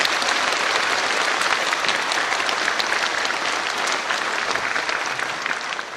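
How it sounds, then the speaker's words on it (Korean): A church congregation at a dedication service for a new sanctuary claps together. The applause is sustained and even, with dense broadband clapping for about six seconds that eases slightly at the end. "모두 함께 박수 한번 하겠습니다."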